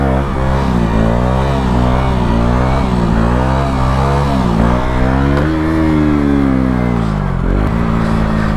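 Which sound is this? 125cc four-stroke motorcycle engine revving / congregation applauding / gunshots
125cc four-stroke motorcycle engine revving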